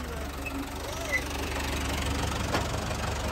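Tractor engine idles with a steady low knocking rumble close by, a faint vibration running throughout as voices talk intermittently over it.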